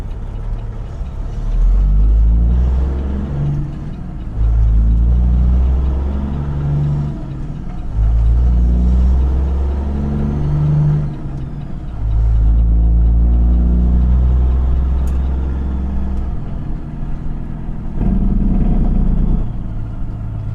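A truck with an 18-speed Fuller twin-stick gearbox, driven unloaded, gives a loud, close, low diesel drone that rises in repeated surges and drops off briefly between them as gears change, roughly every few seconds.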